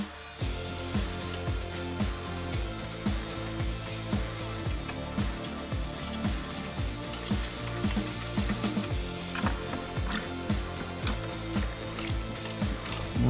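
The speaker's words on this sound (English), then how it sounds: "Now we're just going to put the nuts on and tighten them down." Ratcheting clicks from nuts being tightened onto the rear rack bolts of a Can-Am Renegade ATV, a steady run of quick mechanical clicks against a constant background din.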